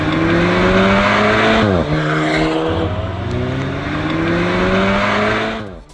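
A modified Volkswagen Polo GTI engine revving loudly and close, pitch climbing, dropping abruptly at each gear change, then rising again in repeated pulls.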